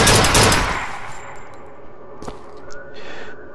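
Gunfire in the video game BioShock Infinite: a loud burst of shots at the start quickly tailing off, followed by a single sharp report and a few fainter game effects.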